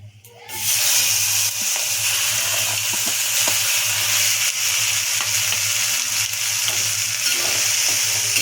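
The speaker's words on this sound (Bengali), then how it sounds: "এবার ঢেলে দিচ্ছি পেস্ট করা কড়াইশুঁটিগুলো" Green pea paste hits hot oil with asafoetida and black cumin in a wok, giving a loud, steady sizzle and frying hiss from start to finish, with no voices.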